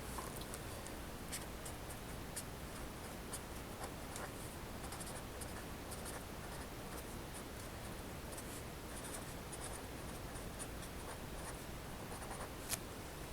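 Pen writing notes on paper, faint close scratching strokes with small taps, steady and quiet against a hissy room background.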